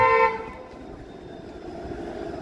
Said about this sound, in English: Not sure why he's honking.